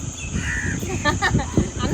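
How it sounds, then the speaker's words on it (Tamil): A crow gives a few short, harsh caws close by, quick and clustered, over a background of soft ambient noise. "அந்த காக்கா போறது"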